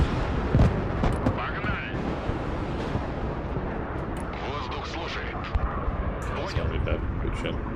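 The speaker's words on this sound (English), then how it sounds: "Let's just get 235 to come up and just shoot down that pesky hornet." Gunfire in the video game Broken Arrow shoots down a Hornet jet: a dense, continuous barrage of booming shots and crackling bursts mixes with aircraft roar, loud and busy throughout, with talk over it.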